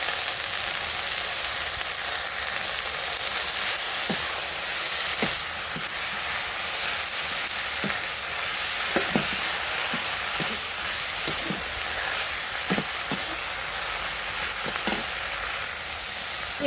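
Fish frying in a pan with greens added, a steady loud sizzle running throughout with scattered sharp clicks and scrapes of stirring.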